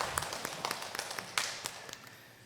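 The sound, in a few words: church congregation applause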